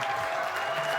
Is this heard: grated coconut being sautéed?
no